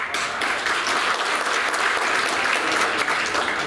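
An audience applauds steadily and densely as university guests are introduced at a sports hall of fame luncheon and induction ceremony, a continuous wash of many hands clapping at even loudness with no voices on top.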